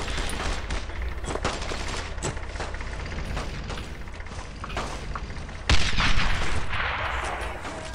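Gunfire and explosions from the World War II shooter Brothers in Arms: Road to Hill 30 sound as dense, continuous battle noise full of rapid shots, with a loud boom near the end.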